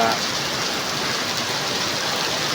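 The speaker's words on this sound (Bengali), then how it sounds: "শিলাবৃষ্টি হইতেছে এখন, শিলাবৃষ্টি হইতেছে" A dense, steady roar of hail pounding a surface, continuous and loud throughout, with no pauses or distinct individual impacts.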